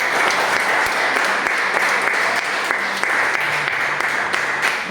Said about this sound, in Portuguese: Aplauda o Senhor neste momento.